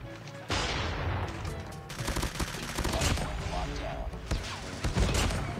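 Rapid gunfire in Call of Duty, with dense automatic bursts and sharp shots filling nearly the whole stretch after a brief quiet opening. The shooting stays loud and close throughout.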